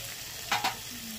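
Capsicum and spices frying in a pan are stirred in two quick scraping bursts over a faint, steady sizzle.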